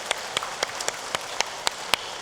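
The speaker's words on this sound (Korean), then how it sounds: "박수로 격려하겠습니다." A church congregation at Sunday service gives slow, rhythmic applause, about eight evenly spaced claps over a soft background hiss, moderately quiet and steady, with no talking.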